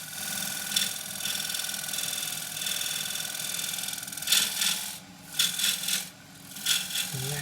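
A 1/2 inch skew chisel shear scraping a spinning oak box on a wood lathe, giving a continuous soft rasping hum with several louder scraping bursts toward the end, close and fairly quiet.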